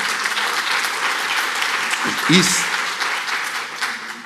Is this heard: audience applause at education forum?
yes